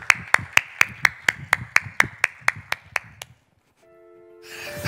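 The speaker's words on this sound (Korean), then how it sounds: "예, 다시 한번 여러분 박수 부탁합니다." A congregation claps during a Sunday church service, about a dozen sharp, evenly spaced claps in a steady rhythm, then a brief hush and a sustained electronic tone.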